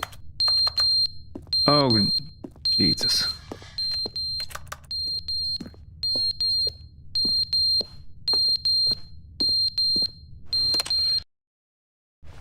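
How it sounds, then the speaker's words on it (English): A fire alarm in What Remains of Edith Finch sounds in a steady run of loud, evenly spaced shrill electronic beeps, with a voice exclaiming briefly near the start before the alarm cuts off at the end. "Fire alarm."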